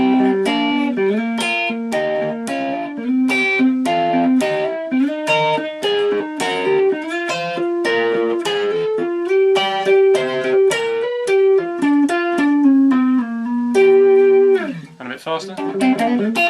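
An electric guitar plays a blues lick slowly with hybrid picking, mixing pick strokes and finger plucks into a clear run of single notes and double stops with a light effected tone, ending in a short strum.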